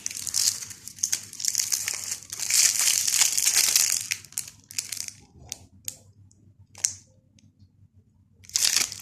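A crinkly plastic-wrapped package is torn open and crumpled up close, with loud irregular bursts of crackling and rustling, a long sustained stretch in the middle, then sparser crinkles and a final burst.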